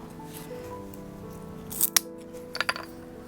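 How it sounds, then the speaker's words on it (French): Shears snip through thin wooden sticks for a winter geometric floral arrangement, a few sharp close cuts over a quiet background hum. "Et ici, je coupe le petit bout excédentaire."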